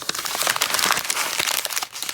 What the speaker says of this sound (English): That crumpling was like sort of ASMR now, looking back on it.